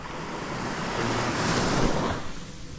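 Calm sea waves near Twin Island wash steadily in a continuous broadband surf hiss that swells slightly toward the middle, with light wind noise on the microphone and no voices.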